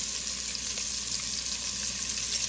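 Garlic and vegetables sautéing in a pot for Zuppa Toscana soup: an even, steady sizzle and hiss, close and unbroken, with no talk.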